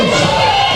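A crowd roars and cheers at a Queensland Basketball League home game, Toowoomba Mountaineers against Logan Thunder, in a dense, loud, continuous wash of voices throughout the short moment.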